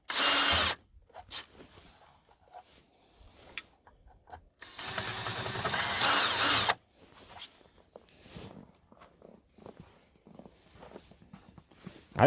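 A power drill, used while mounting LED worklights on a tractor, whirs loudly in two bursts, one short and one longer, separated by quieter clicks and handling noises.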